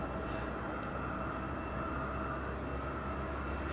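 A distant aircraft approaching Madeira Island Airport on downwind gives a faint, steady airborne rumble, continuous and unchanging, with no talk over it.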